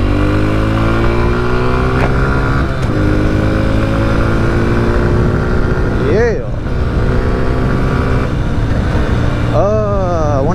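A Honda CRF125 dirt bike rides past, its engine droning loud and close. The pitch climbs steadily, then it is revved in two sharp rising-and-falling bursts near the end.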